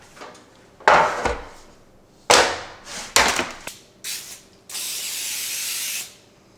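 Several hissing bursts of baking spray coat a greased cookie sheet, separated by pauses, ending in one long steady spray lasting over a second; close and fairly loud with no talking.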